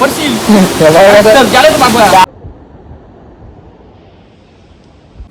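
Rushing water from a monsoon-swollen waterfall stream in Murbad, Thane, washing over a road, a loud broadband roar heard close under a voice for about two seconds before cutting abruptly to near silence.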